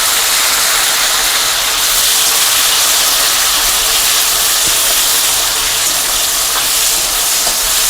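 Black cumin, bay leaf and tomato frying in a smoking-hot wok, a loud, dense, steady sizzle and hiss, close up and continuous with no voices.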